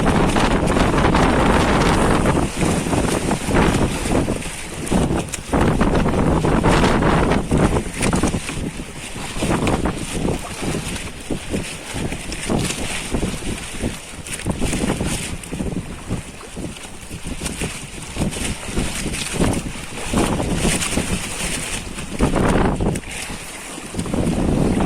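Strong storm wind roars and buffets the microphone while waves crash around a fishing boat out at sea, a loud continuous rush with surging gusts and water splashes throughout.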